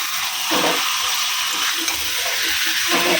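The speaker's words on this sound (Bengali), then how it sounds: "মাছের মাথাটা এখন কষিয়ে নিচ্ছি" Fish head frying in a hot pan, a loud, dense hiss of spitting oil with bursts of stirring over about three seconds.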